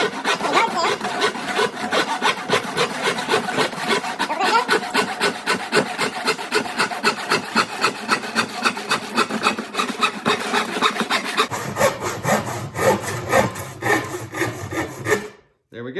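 A dull yard-sale hand saw cutting through a wooden board for a birdhouse, steady rasping back-and-forth strokes in a fast even rhythm, close and loud, slowing near the end before the cut finishes.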